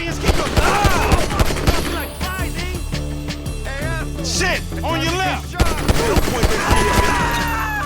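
Loud, nearly continuous bursts of gunfire ring out in Grand Theft Auto V, rapid cracks stacked close together with brief lulls, while excited voices carry on underneath.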